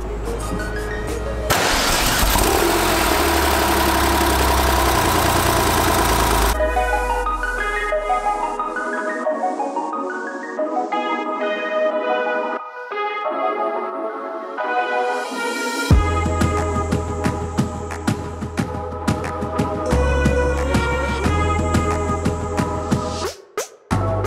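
A Porsche 993 Turbo sports car engine cranks and fires up, then settles into a steady idle with some revving, loud and close, with no talking.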